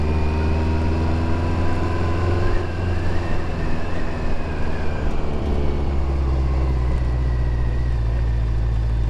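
A BMW K100 motorcycle engine drones steadily while riding, a loud continuous hum with rising and falling whine over heavy low rumble and wind rush, with no pauses.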